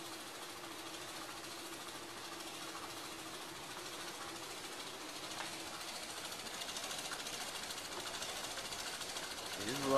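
A Newman motor bike wheel runs with a steady, continuous rumbling hum at moderate level, swelling slightly louder toward the end.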